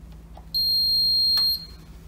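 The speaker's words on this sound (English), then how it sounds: "One beep means it is on." An Elkatherm electric radiator with integrated digital controls gives a single high, steady electronic beep about a second long when switched on from standby, clear and close in a quiet room.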